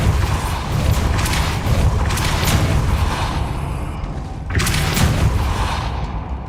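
A Depulso spell cast in Hogwarts Legacy, heavy booming blasts in two loud bursts with a rumbling low end, the second surge arriving after a brief dip, no talk over it.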